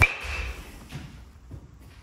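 An old tan BBCOR baseball bat strikes a ball once at the start, leaving a short metallic ring that fades over a dull low thud, with no talking.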